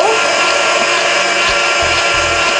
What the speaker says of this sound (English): Turning the mixer to speed 1 to start, turn the machine on, and then to speed 4.